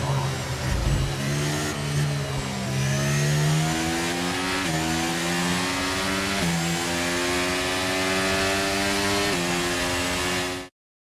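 F1 racing car in a video game cruising back to the pits after the Saudi Arabian Grand Prix, its engine droning loudly and steadily with rising and falling pitch as it shifts through gears, close and continuous with no talk.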